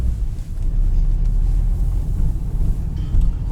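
Inside a moving Citroen C-Elysee taxi-class sedan, a steady low road and engine rumble fills the cabin at constant volume, with no talking over it.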